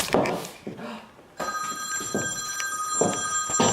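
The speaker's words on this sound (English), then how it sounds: "Oh, my phone is ringing." A mobile phone rings indoors with a bright, repeating electronic tone that starts abruptly and continues steadily, with a person speaking briefly just before it begins.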